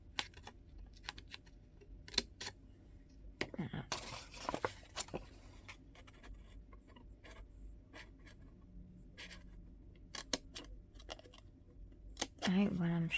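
Close, crisp snips of scissors cutting paper for a carousel craft, scattered irregularly with a few denser bursts of cutting and rustling, under intermittent talk.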